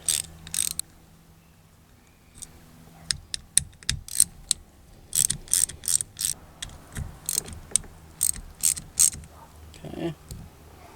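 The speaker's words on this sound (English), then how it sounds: "we can go ahead and loosen and remove these screws" T25 Torx screws being loosened and backed out of a window regulator motor on a 2000-2006 Toyota Tundra with a ratcheting tool, producing close, sharp bursts of rapid clicking separated by short pauses.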